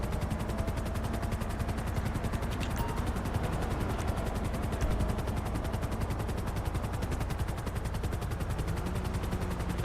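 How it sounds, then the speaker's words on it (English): Police helicopter from the LSPDFR mod for GTA V, its rotor chop continuous and steady throughout amid dense gunfire-like clatter, no talk. "It's even got the chopper so that it's perpetually up there."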